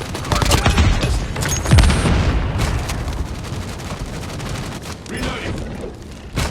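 Dense gunfire in Call of Duty Mobile during a Hardpoint match, with bursts of automatic shots and booms running continuously and loudly throughout, mixed with game effects.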